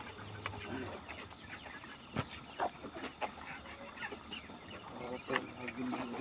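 Broiler chickens cluck in a poultry house on a broiler farm, scattered soft calls and short bursts over a low hum, with people's voices murmuring in the background.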